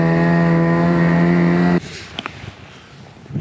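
Snowmobile engine droning loudly as it climbs a snowy mountain, a steady harmonic hum that cuts off abruptly halfway, leaving faint wind and scattered bumps.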